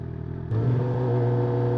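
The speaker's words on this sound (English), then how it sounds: "this freaking exhaust is fucking loud as hell" A loud, steady 2022 Suzuki GSX-R750 motorcycle exhaust rumble kicks in after a brief quieter stretch and holds a continuous low drone through the rest.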